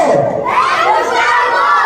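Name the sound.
children shouting "hey Mukyambo" at birthday party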